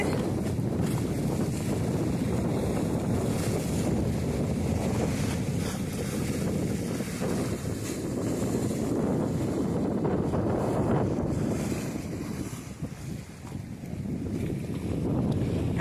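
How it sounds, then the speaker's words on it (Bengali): Sea waves breaking on a beach in Devon, England, a steady loud wash of surf mixed with heavy wind buffeting the microphone throughout, with no talking. "পাড়ে ঢেউ আছড়ে পড়ছে।"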